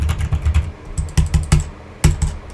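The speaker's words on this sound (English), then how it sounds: "You can also hear my keyboard." Fingers type on a computer keyboard at close range, with irregular bursts of sharp clicks and a few louder keystrokes, alone without any voice.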